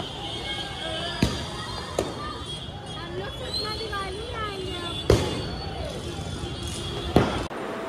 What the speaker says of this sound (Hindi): अरे उधर पटाखे बज रहे